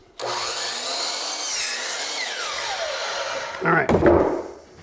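A power saw cuts through wooden top and bottom wall plates in a church renovation, with a loud whining cut that rises and falls in pitch and ends in a rough clatter as the piece comes free.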